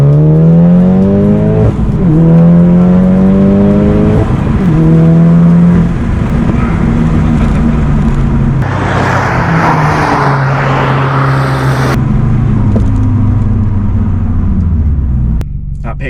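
A 420 bhp Audi S3 saloon accelerating hard from inside the cabin, engine note climbing through several rising sweeps with gear changes, loud and close, with people talking over it.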